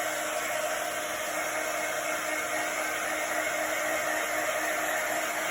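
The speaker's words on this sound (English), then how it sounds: "you just wanna use your hair dryer" A hair dryer blows steadily throughout, drying chalk paste on a craft project, a constant loud whooshing hiss with no pauses.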